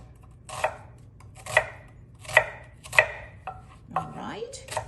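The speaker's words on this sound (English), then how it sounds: "I'm just going to dice the onions" A knife dices a medium-sized onion on a cutting board, giving four to five crisp, evenly spaced chops, close and clear, with a faint scrape at the end.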